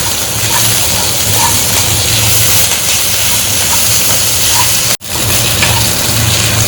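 Chopped onion, ginger and garlic sauté in a hot pan for a chicken liver roast, giving a loud, constant sizzling hiss that runs without pause except for a very brief cut-out partway through.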